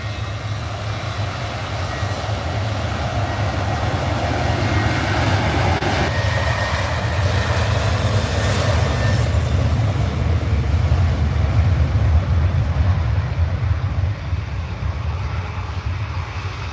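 A Ryanair airliner just after landing at Manchester Airport gives a continuous low rumble of jet engines, moderately loud and steady, swelling slightly toward the middle before easing off.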